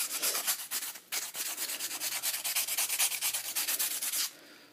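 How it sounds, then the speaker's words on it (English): Sandpaper rubbing the rough cut edges of a hollow blowgun tube, a close, loud run of quick rhythmic back-and-forth strokes that pauses once briefly, then continues steadily before stopping. "So that's when you can take your sandpaper"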